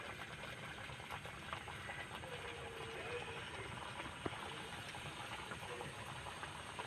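Chicken pocket singara fry in hot oil in a wok, giving a steady, even sizzle and bubbling hiss that stays at a constant low level, close by, with no talking over it.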